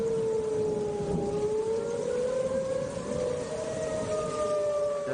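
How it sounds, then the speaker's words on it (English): A tornado warning civil defense siren wails steadily, its rising and falling tone carrying from a distance over a low, constant rumble. "Suddenly, a tornado warning is issued for your area, and the tornado sirens sound."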